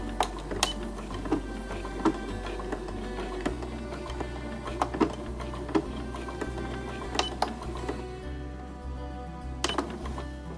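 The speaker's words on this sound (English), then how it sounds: "I'm going to lower the needle down and I'm just going to do a little back stitch" A sewing machine stitches a quilt block, its motor whirring steadily under a rapid mechanical needle clatter, with periodic clicks and a brief back stitch changing the rhythm midway; no talking.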